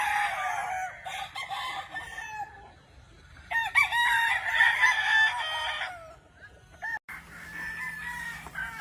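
Gamefowl roosters crow repeatedly at a game farm in Sorsogon, loud nearby calls in long rising-and-falling bursts with short gaps between them, one crow following another.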